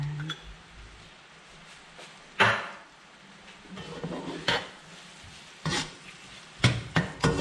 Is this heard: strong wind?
no